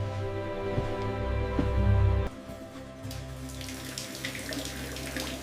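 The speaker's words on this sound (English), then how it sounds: "Running water. No more buckets from the yard." Tap water runs into a kitchen sink in an old house that has just gained indoor plumbing, a steady close splashing stream with no talk.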